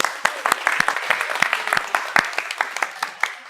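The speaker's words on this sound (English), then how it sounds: "can we give those ladies a clap?" A seminar audience claps for two women at a sales techniques session, a small group's hand claps sounding close and distinct with individual sharp slaps audible throughout the short burst.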